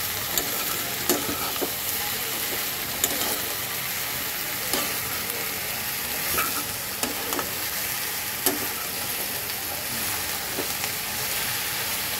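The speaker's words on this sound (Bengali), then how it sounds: "এবার সবকিছু একসাথে আগে একটু মিক্স করে দেব।" Ridge gourd and shrimp being stirred together in a frying pan, a steady loud sizzle with scattered scraping and clicking spatula strokes throughout, no talking.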